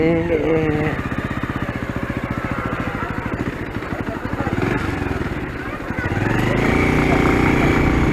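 A motorcycle ridden along a road toward Dagara beach, with a loud, steady close engine drone whose pitch rises and dips through the ride.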